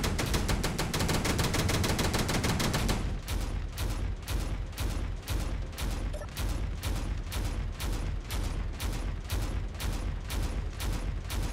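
Automated weapon turrets in a video game fire nonstop, loud rapid bursts that merge into a dense roar before settling into a steady, evenly spaced chatter of shots, with no talking.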